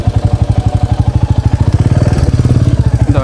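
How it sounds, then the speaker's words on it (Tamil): A motorbike engine running on a road, a loud, close, rhythmic putter that grows steadier and slightly busier as it goes, heard alone without talk. "யாருண்ணே பாருங்கள் எப்படி வண்டி போயிட்டே இருக்கு பாருங்க"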